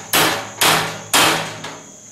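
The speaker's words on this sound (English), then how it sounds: "it's just a matter of putting the punch in the hollow stem of the rivet. So here we go, we're going to just form that flange" Hammer striking a punch set in the hollow stem of a rivet to flare its flange, three sharp close metallic blows at an even pace followed by a fainter fourth tap, with no talking.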